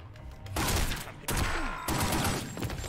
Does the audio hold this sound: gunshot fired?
yes